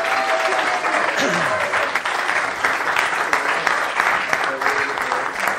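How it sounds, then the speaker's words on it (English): An audience applauds for team manager Lawrence Robbins at a football club event, with sustained, dense clapping and some crowd noise lasting several seconds. "Ladies and gentlemen, put your hands together. Team manager Lawrence Robbins."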